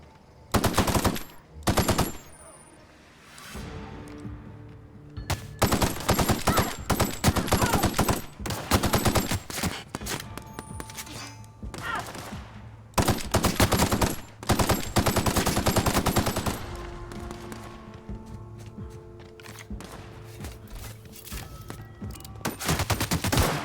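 Rifle fire in The Outer Worlds video game rattles out in loud, rapid automatic bursts separated by short pauses, with game music underneath and no talking.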